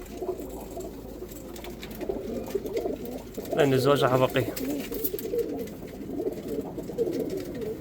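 A pigeon coos in a short rolling burst close by on a rooftop loft, set against someone talking in Arabic and light background noise.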